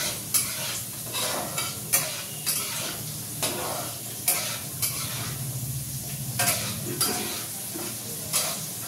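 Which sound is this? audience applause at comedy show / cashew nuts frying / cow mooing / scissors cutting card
cashew nuts frying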